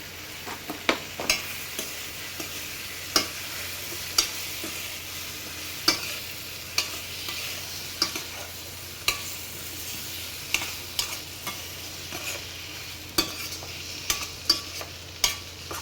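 Cubed paneer sizzling in a pan, stirred with a spatula in repeated sharp scrapes and clacks over a steady frying hiss, close and moderately loud with no talk.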